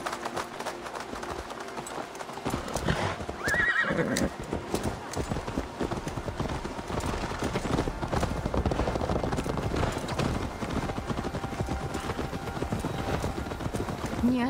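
Horse hooves clip-clop at a steady run through most of a scene in the Viking-era game Assassin's Creed Valhalla, with a neigh early on and game dialogue and ambience layered underneath.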